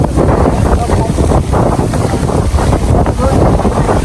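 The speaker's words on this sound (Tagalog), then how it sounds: "Pagaspas ang hangin." Strong wind roars and buffets continuously, loud and close, with gusty rumbling and no clear pauses.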